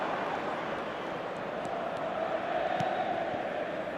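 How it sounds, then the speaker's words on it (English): A stadium crowd in a football video game, a steady, dense murmur of thousands of fans filling the background with a faint swell of cheering, continuous and even throughout. "the crowd have tried to spark some excitement, but to no avail"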